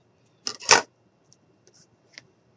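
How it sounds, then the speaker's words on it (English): Scissors trim the tongue piece on a handmade dog jar with a removable lid: two quick close snips, then a few faint clicks and taps. "And then I'm just going to cut off a little bit."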